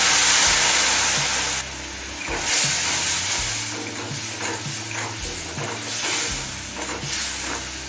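Spiced pan of Bengali hilsa fish head and elephant foot yam, seasoned with cumin, chili powder and salt, sizzles loudly as a splash of water hits it, a steady hiss with stirring scrapes and a brief drop partway through.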